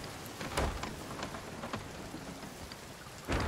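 Storm rain in Sea of Thieves, a steady hiss of rainfall under a rumbling low wash, with a couple of louder bursts like thunder or crashing water near the start and end.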